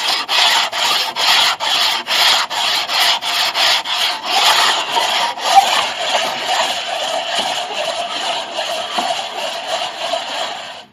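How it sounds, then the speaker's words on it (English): A large, slightly flexible sand block rubs steadily back and forth across a piano soundboard during a Mason & Hamlin CC rebuild, making loud, close, rhythmic scratchy strokes for the whole stretch with no talking. "I'm going to take this big, slightly flexible sand block and smooth everything out"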